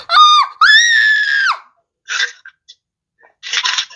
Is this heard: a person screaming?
yes